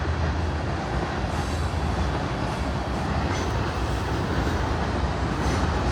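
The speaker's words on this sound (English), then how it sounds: "This looks like it's going to be a long train" A long train rolls past close by, a loud, continuous rumble with rattling wheels and clatter that stays steady throughout.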